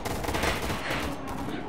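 AK-47 fire in a video game: a short, loud, continuous rattle of rapid shots packed tightly together, close and harsh, filling the whole moment.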